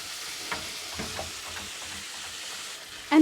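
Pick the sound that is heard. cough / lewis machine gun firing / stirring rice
stirring rice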